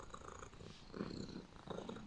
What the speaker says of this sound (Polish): Tak, to jest kot.